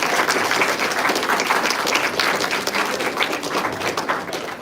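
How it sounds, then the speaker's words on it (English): An audience applauds honorary life members at a school music honor society ceremony, a dense, steady round of clapping that stays loud throughout before easing slightly at the end. "Let's give them a round of applause."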